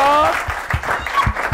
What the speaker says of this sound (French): Merci, on applaudit pour elle encore.